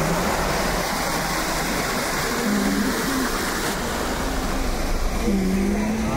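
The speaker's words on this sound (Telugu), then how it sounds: "వాటర్ ఫాల్స్ తో మీకు స్వాగతం పలుకుతుందిరా ప్రకృతి" Waterfalls beside a highway, heard from inside a moving car, a constant broad rushing roar blended with road and engine noise, with brief voice-like tones over it.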